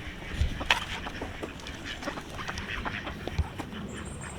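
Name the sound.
ducks quacking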